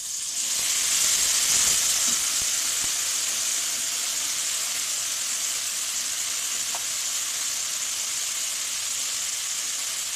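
Ginger, tomato and garlic paste fries in a pan for an egg and soybean curry, giving a steady, loud sizzle and hiss that holds throughout, with a few faint stirring clicks early on.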